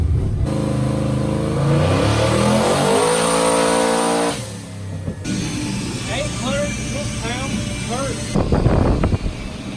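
A Pontiac Trans Am making about 1,000 horsepower at the tire revs hard on a chassis dyno, its engine climbing to a loud steady roar before cutting off, followed by sharp rapid popping bursts from a two-step launch limiter test.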